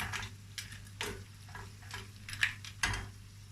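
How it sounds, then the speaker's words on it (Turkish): A spoon stirs rice pilaf with boiled chickpeas in a pot, soft scraping strokes at a steady rhythm with faint clinks, quiet and close over a low background hum. "Şöyle nohutlarla birlikte pilavımı da iyice karıştıracağım."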